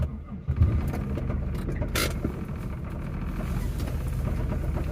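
An old car's engine runs steadily with a low rumble close by, which may be a failing engine with low oil pressure. A brief thump comes near the start, and no one speaks.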